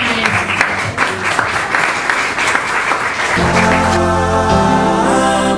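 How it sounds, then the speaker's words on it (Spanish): A church congregation applauds, a loud, dense wash of clapping from many hands that gives way partway through to music. "Y un aplauso para Cristo porque Él se lo merece."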